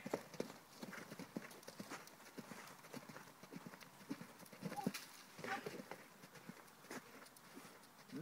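Horse hooves stepping on an arena surface during a riding performance, a steady rhythmic clip-clop of close footfalls with occasional louder strikes.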